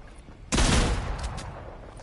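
Burst of gunfire in the video game Fortnite, a loud sudden volley of shots that breaks in after a quiet start and then rings out through the rest of the moment.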